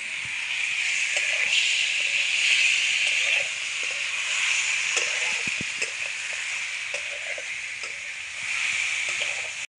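Turmeric fries in a pan for a banana flower chicken dish, giving a steady, soft sizzling hiss throughout with occasional light clicks and stirring taps.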